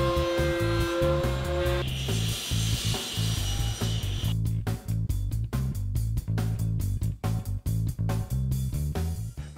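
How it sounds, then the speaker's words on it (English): A drill boring holes in a piece of 5/4 mahogany for a 1/4-inch steel rod: a steady motor whine at first, then a rapid rhythmic chattering of the bit cutting into the wood, close up. "I need to drill 2/4-inch holes for the 1/4-inch rod, which will attach this piece to the main support"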